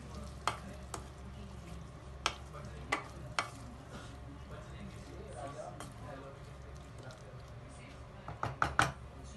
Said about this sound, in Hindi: अब मैं इसमें डालूंगी आलू। फिर इसको हम अच्छे से मिक्स कर लेंगे।